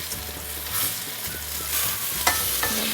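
Lemon chicken pieces sizzle steadily in a hot pan as they are turned, a broad continuous frying hiss with a few soft clatters of the pieces landing, close and fairly loud with no voices.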